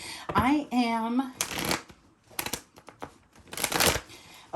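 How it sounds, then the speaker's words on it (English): A worn deck of cards, hard to shuffle in humid weather, is shuffled in several quick riffling bursts close by, with a voice speaking briefly at the start. "this deck is so beat that when it's humid, it's hard to shuffle it"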